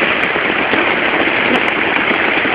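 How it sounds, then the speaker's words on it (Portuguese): Heavy rain pours steadily and loudly on a campsite at Barra do Una, Jureia-Itatins, Brazil, a dense continuous hiss with a few sharp drips standing out. "Fomos presenteados hoje com uma chuva maravilhosa. E forte desde ontem à noite."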